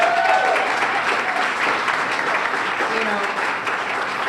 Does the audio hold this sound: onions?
no